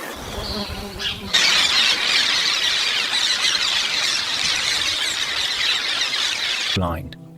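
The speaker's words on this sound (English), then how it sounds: "a wild boar uses its armored snout like a plow, uprooting soil in search of his..." Wild boar rooting through forest soil, giving a loud, sustained, shrill squeal that runs for several seconds, with a narrator's voice just before and after it.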